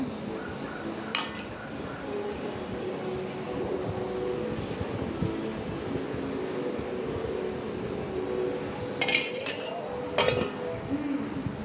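Curd being mixed into a dish in a bowl, a soft, continuous wet stirring close by, with a few metallic clinks of spoon on the bowl, most of them near the end.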